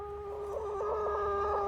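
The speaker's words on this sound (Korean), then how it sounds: "그리고 이제 두 번째 암탉" A hen clucking close by in a backyard flock, steady low clucks running continuously for a couple of seconds with a faint tonal hum behind.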